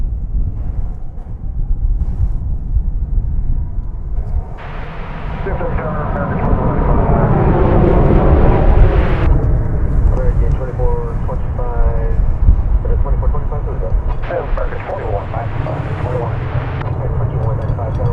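An American Airlines airliner takes off from runway 18 left at Dallas/Fort Worth International Airport. The deep jet roar swells and holds steady under radio voices talking.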